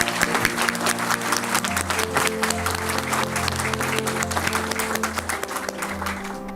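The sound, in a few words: audience applause for police officers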